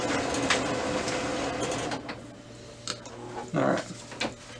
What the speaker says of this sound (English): We're going to go ahead and print device statistics. Just give this a second to print here.